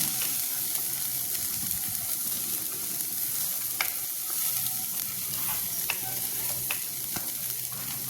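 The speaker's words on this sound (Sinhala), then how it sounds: "මේක තෙලේ හොඳට බැද ගන්න ඕනේ." Soya meat fries in oil with ginger and garlic, hissing and sizzling steadily at close range. Occasional sharp clicks of a spoon stirring the pan cut through the sizzle.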